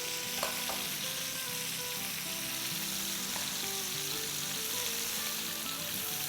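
Chicken pieces fry in a pan with a loud, constant crackling sizzle, close and unbroken throughout, with no speech.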